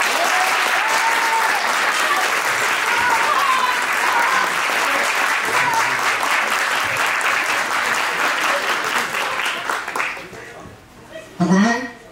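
Loud, sustained audience applause welcoming a speaker at an eloquence event, dense clapping with some cheering that fades out toward the end, followed by a brief spoken voice.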